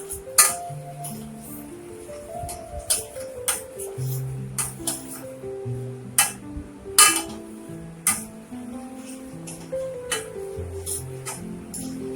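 A metal spoon stirring hot chocolate in a pan, giving bright, irregular clinks and taps against the pan at close range over soft background music.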